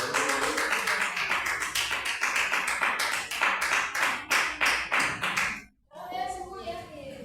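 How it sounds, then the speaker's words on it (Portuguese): Church congregation clapping in praise, dense rhythmic handclaps with voices mixed underneath, stopping abruptly before a brief pause and some talking. "As palmas que louvam o Senhor"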